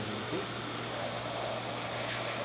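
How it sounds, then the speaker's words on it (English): A serviced La Pavoni lever espresso machine's steam wand blasts dry steam from its boiler, a continuous steady hiss held close and moderately loud with a low hum underneath. "great dry steam since it is a boiler, and the steam's pulling from the top"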